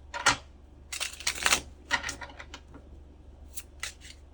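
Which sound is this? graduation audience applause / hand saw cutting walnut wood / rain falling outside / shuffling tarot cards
shuffling tarot cards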